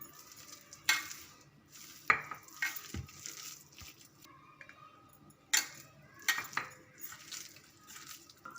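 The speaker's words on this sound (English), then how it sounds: "Gently mix the besan flour and the rice flour." Besan and rice flour being gently mixed by hand for bottle gourd vada, with intermittent soft stirring and scraping, a few sharper clinks of a utensil against the bowl, and quiet pauses between strokes.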